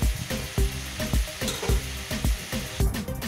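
Mutton and banana flower fry in a kadai, a sizzling crackle cut by regular scraping stirs about every half second. The strokes sound close and rhythmic against the hot fat.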